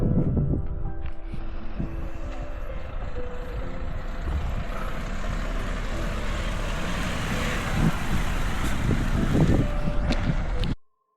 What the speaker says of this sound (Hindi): बस अब स्टार्ट कर रहे हैं कैलाश भाई गाड़ी